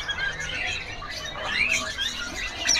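A tame black-winged myna (jalak putih) at a bird market gives short whistled calls and chirps, with faint background bird chatter and market noise throughout.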